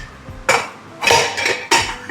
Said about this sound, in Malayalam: കുക്കർ അടയ്ക്കാനൊക്കെ അറിയാം